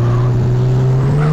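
A turbocharged sports car engine in GTA drones in a loud, close, steady tone, holding an even pitch throughout the short stretch.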